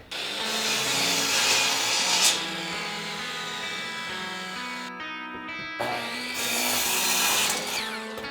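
A miter saw whines loudly as it chops through a cherry wood board in two passes, a long gritty cut, a brief pause as the blade spins down, then a second cut.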